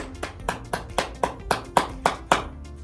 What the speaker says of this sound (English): I want everyone to practice clapping as if your favorite actor is coming out for real